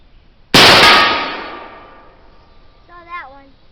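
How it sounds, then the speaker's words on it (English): A muzzleloading musket fires with a homemade percussion cap, a single loud sharp report followed by a long decaying ring, then a brief voice speaking near the end. "Okay, first shot went off good, no hesitation."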